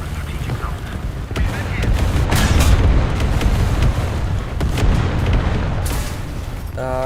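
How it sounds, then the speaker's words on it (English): Artillery strike explosions in War Thunder, in an M4 Sherman tank battle, roll as a dense run of heavy booms and blasts, loud and continuous across the whole stretch with no talk over them. "Artillery strike."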